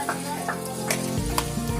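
Garlic sizzles in a frying pan (kawali) while being browned, a steady close crackle with a few scraping stirs and a deeper rumble entering near the end, no talking.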